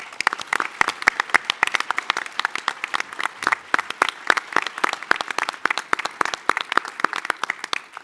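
Audience applause at a summit closing session, dense steady clapping from a sizable crowd, loud and continuous with no talk.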